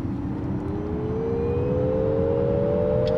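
A Nissan Ariya e-4ORCE electric SUV accelerates, giving off a steadily rising futuristic whine over road and wind rumble, continuous and close with no talking.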